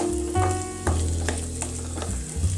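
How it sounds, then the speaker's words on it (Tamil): Vegetables for sambar sauté in a pan, a close, steady sizzle and fry with stirring scrapes and soft clinks running through a short stretch, and no voices. "இது மாதிரி நல்லா வதக்கிக்கிட்டே இருந்தோன்னா காய்கறி நல்லா சிவந்து கலர் மாறிடும்."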